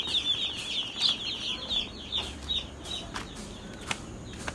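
Broiler chicks in a brooding house give repeated high peeping chirps and soft clucks, close and moderately quiet, with occasional light flutters and no voices.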